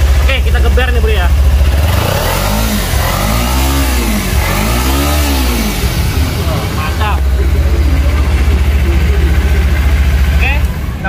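Kawasaki Ninja 250 motorcycle engine idles loudly up close, then is revved in rising and falling sweeps, with someone talking over it.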